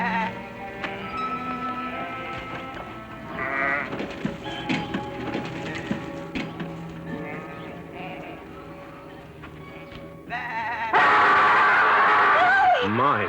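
Sheep bleat in a 1970s monster film scene set in hill country, wavering cries rising over a busy soundtrack, with a loud, sustained burst near the end.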